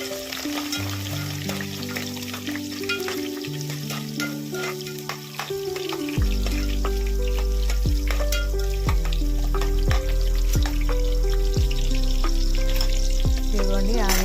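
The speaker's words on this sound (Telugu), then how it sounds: "ఆనియన్స్ కూడా దూరగా ఫ్రై చేసుకోవాలి" Onions fry in ghee with garam masala in a pan, giving a steady, close sizzle that swells and stays strong throughout, with music playing in the background.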